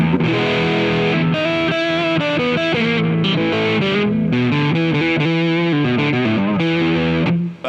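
A Kauffmann '59 SC plain-top electric guitar dug into hard with the volume at 10, producing loud, driven, saturated chords and riffs with thick sustain and brief gaps between phrases.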